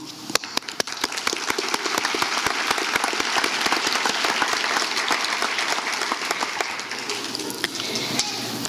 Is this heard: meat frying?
no